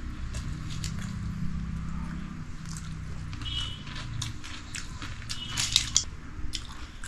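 Someone eats pakhala, soft rice soaked in water, close up, with wet squishy chewing and a few small crunchy bites, no talking.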